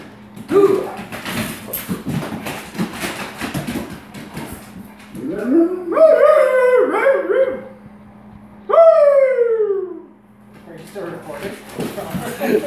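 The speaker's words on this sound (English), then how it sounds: "Who let that dog out of there?" An excited pet dog howling and barking indoors, with short barks followed by two long rising-and-falling howls, close and loud, while a person talks to it.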